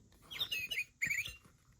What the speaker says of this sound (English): Sparrow.